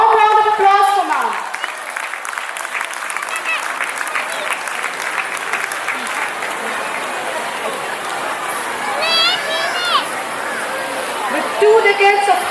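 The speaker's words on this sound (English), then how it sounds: "Give a warm round of applause for ma'am." Warm audience applause at a school ceremony honouring a staff member, continuous crowd clapping throughout, while an announcer's voice speaks over it near the start and again later.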